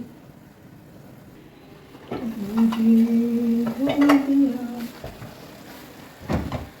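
Macaroni with soy sauce being sautéed in a pan, heard as a short burst of sizzling with a metal spoon scraping and clinking against the pan, then a brief clatter near the end.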